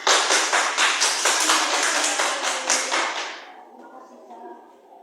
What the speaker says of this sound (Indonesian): Oke, tepuk tangan untuk kelompok dua.